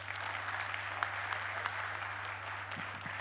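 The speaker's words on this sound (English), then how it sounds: "Mr. Rahul Kamath deserves a bigger round of applause for his absolute passion for cashew" Steady applause from an audience at an annual general meeting of a cashew industry association in Mahabalipuram, a continuous patter over a low electrical hum, with a few louder claps standing out.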